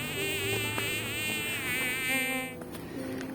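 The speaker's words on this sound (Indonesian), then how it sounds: "kita dikerubung sama nyamuk." Mosquitoes swarm close around someone on a hillside footpath near Giri, Gresik, a steady high whining buzz that sustains throughout with small wavering pitch changes.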